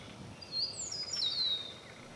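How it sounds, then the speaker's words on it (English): A meadowlark sings in open grassland, a couple of thin, high whistled phrases sliding downward, moderately distant over a soft breezy background. "Although they are grassland birds, you will often see and hear them singing from a high perch in the spring."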